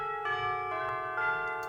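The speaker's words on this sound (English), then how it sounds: "Apart from towards the end, they do a sort of peal" Tubular bells ring in a pealing pattern like church bells in a Christmas pop music cue, several sustained metallic strikes overlapping with long bright ringing tones, loud and close, without talk.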